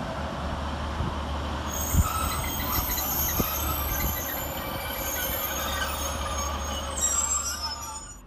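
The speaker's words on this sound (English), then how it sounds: "Next to arrive into the station is 156491, working the 1357 Northern Service from Saltburn to Darlington." A Northern class 156 diesel unit pulls into Eaglescliffe station with a continuous rumbling roar, high wheel squeal, and a few clanks and rail knocks, loud and close throughout.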